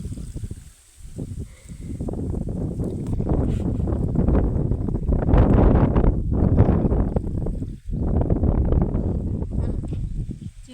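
Strong wind gusts across an open farm field, buffeting the microphone with a low, rushing roar that swells and dips in waves, briefly dropping out near the end before surging again.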